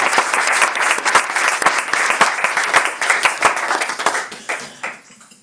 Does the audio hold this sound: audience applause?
yes